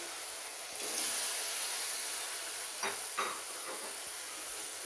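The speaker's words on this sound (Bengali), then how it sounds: "আলু আর টমেটো অ্যাড করে দেবো।" Potatoes and tomatoes hitting a hot pan with fish curry spices give a steady hiss and sizzle that swells after the first second, with a few brief clinks of stirring near the end, alone and moderately loud.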